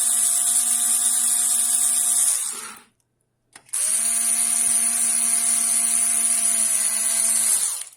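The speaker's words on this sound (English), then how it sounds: "last two screws and our DVR is ready" A power screwdriver drives the last two screws into a Hikvision DVR during hard drive installation, two steady whining bursts of about two and three seconds with a short silent gap between, loud and close.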